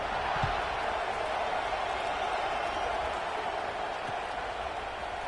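A large stadium crowd in a college football video game keeps up a steady buzzing roar for several seconds after a score. The wash of sound stays broad and even, with no clear voices rising above it.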